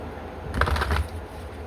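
Tarot cards are shuffled in a quiet room in a single brief riffling burst of about half a second, soft and close, with no speech.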